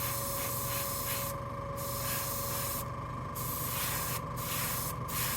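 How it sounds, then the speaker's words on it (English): Airbrush spraying paint in light coats for zenithal priming at about 35 PSI, a steady close hiss of air running throughout, with several brief gaps where the trigger eases off. "You can see it spraying here. Now I'm not pulling back so far, right? So I'm just going to do light coats."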